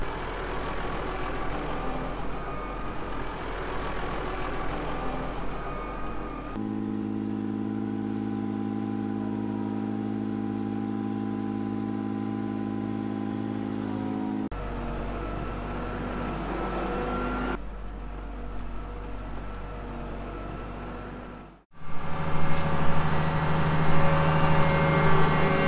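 Tractor pulling a slurry tanker drives off across a field, its engine a steady, fairly close mid-pitched drone with a brief cut in the sound before revving louder near the end.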